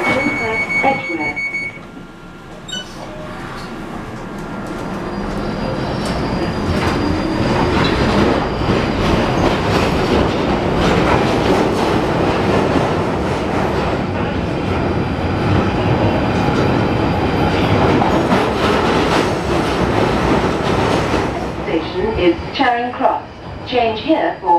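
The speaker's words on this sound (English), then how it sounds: "This is the Northern Line train, terminating at Edgware." A London Underground Northern Line train running between stations, with loud rumbling and rattling wheels that build after a quiet start, plus squealing near the end and an announcement voice at the start.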